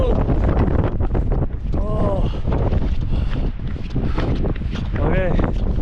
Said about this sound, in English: I've never fished in winds like this.